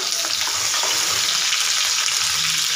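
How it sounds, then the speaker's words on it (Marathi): Onion and capsicum hiss and crackle steadily in a hot kadhai, a dense, loud sizzle held throughout with faint scraping of a stirring spoon underneath. "त्याच्यानंतर शिमला मिरची हलवून घ्यायची व्यवस्थित."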